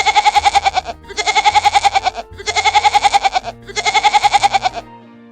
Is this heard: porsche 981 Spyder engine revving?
no